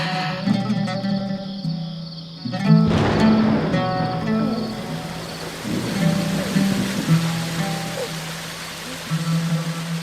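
Rain falling steadily with a dense hiss and patter, sitting under a sustained tonal musical drone and a sudden swelling burst of sound near the start.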